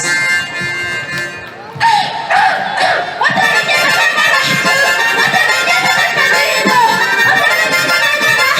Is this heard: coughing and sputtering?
no